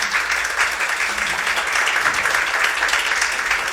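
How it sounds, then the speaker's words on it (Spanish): Church congregation applauding together, a steady sustained wash of clapping from many hands filling the hall, alone without talk over it. "Dele una palabra, una ofrenda de palmas al Señor"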